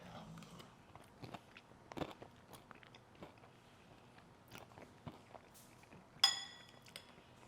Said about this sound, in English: That crisp on top has the right amount of crunch and chew